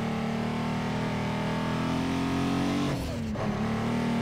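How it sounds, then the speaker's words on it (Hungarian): Hungarian car show, with a car's exhaust holding a steady low engine drone and a brief dip and change in pitch near the end, fairly loud, with no talking. "Az a kipufogó öcsém."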